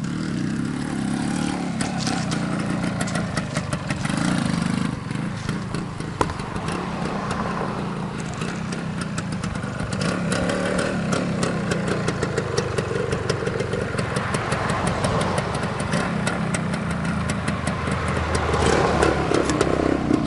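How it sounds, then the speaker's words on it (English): A 1974 Suzuki TS250L Savage motorcycle engine, with 1900 miles, runs steadily nearby, idling with a throaty putter and occasional slight rises in revs. "Shifts and runs just like you'd expect a brand new motorcycle with 1900 miles to run."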